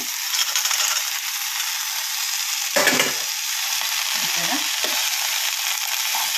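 Steamed field beans stirred in a frying pan over low heat in a home kitchen, a steady broad sizzle running throughout with a few brief scraping stirs near the middle and no talk.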